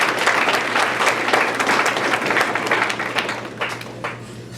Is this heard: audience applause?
yes